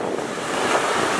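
Sea waves washing onto a beach, a steady roar of surf with wind noise, close and loud.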